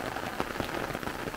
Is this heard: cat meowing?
no